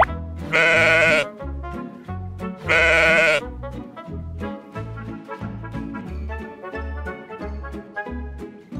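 Two loud, drawn-out sheep bleats sound about two seconds apart, each lasting under a second, over a bouncy, rhythmic musical backing that carries on alone afterwards.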